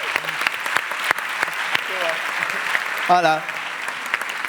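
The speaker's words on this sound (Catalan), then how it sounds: "Un aplaudiment per la Bruna." Theatre audience applauding a young performer at a stage presentation, steady dense clapping throughout, with a brief spoken greeting cutting in partway.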